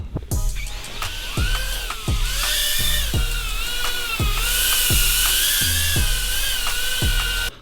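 A BetaFPV Meteor65 brushless whoop drone flies indoors, its high-pitched whining motors rising and falling in pitch with repeated rhythmic throttle bursts, close and loud, with no talking.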